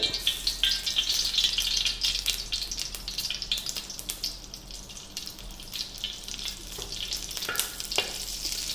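Oil and a teaspoon of butter sizzling in a hot wok on a gas stove, a steady close crackle with occasional scraping, no talk.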